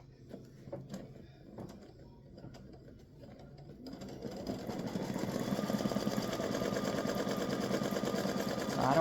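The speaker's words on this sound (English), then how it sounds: "sewing machine, embroidery machine." After a few quiet clicks and handling noises, a combined sewing and embroidery machine starts up and stitches a design with a steady, rapid mechanical chatter, close and continuous.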